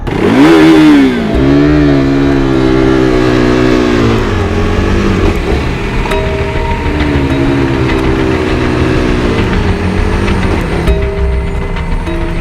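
Motorcycle engine running close by, starting with a strong rev that drops into a steady, throbbing idle, with brief blips of throttle and a rising pitch near the end.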